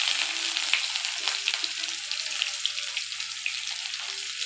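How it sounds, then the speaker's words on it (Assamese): Sliced onion sizzles in a little hot oil with two bay leaves and panch phoron, a steady close crackling hiss with small spattering pops throughout and no speech over it. "এতিয়া পিঁয়াজ দিছোঁ।"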